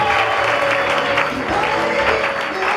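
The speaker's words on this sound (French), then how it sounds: "On acclame très fort le Seigneur" A wedding congregation at a church service claps loudly and continuously in acclaim, a dense wash of applause that stays strong from start to finish, with some voices mixed in.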